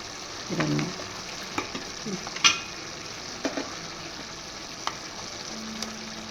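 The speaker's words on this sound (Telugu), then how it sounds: "టమాటాలు కూడా వేసాను మసాలాలో" Tomatoes and masala fry in a pan for a mutton curry, a soft, steady sizzle broken by several distinct scraping stirs and clinks of a spoon, close and fairly quiet.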